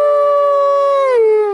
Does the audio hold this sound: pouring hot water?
no